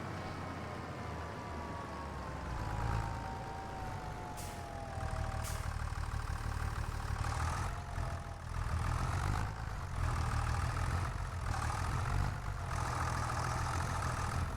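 A 3650 tractor in Farming Simulator 25 pushing bales: a steady low diesel rumble with a whining pitch that slides downward early on, then heavier revving surges and clunks.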